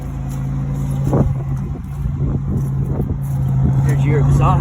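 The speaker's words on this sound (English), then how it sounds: "There's your exhaust. It's a little loud." A 2002 Chevrolet Impala with the 3.8 engine idles with a loud exhaust, a steady low droning hum close by, while someone talks over it.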